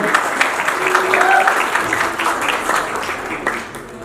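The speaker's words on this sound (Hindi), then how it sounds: "दीपक जी, जोरदार तालियां हो जाए।" An audience claps for Deepak on a Hindi television show stage, a loud, continuous round of applause that holds steady before thinning and fading toward the end.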